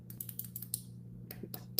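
Quick light clicks and taps from a stylus on a device, irregular and close, quiet over a faint steady hum.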